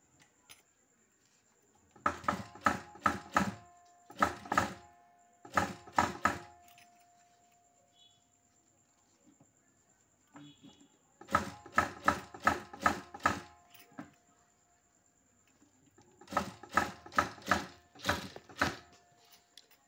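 A sewing machine stitches folded piping onto a silk blouse in three bursts of rapid rhythmic needle clatter, each lasting a few seconds and separated by near-silent pauses, heard close and alone.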